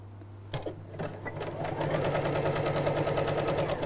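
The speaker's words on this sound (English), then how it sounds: "fold that in half and sew around it" A sewing machine stitches small stitches around the edge of a folded fabric strip, starting after a few clicks and settling into a steady, fast, close-up whirring rattle.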